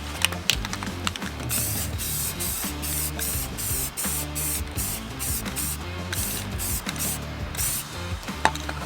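Aerosol spray paint hisses in short repeated bursts close by onto a car bumper, over a rhythmic mechanical clatter and hum.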